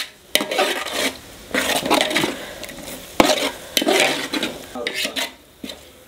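Masala for a large batch of chicken biryani stirred and mixed in a pot, with repeated scraping and clanking bursts of the spoon against metal over a soft sizzle.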